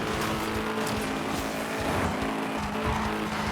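Engine roar and tire squeal as a hypercar drifts in Asphalt 9 racing game on Nintendo Switch, a continuous loud skid-laden whine lasting several seconds with no talking.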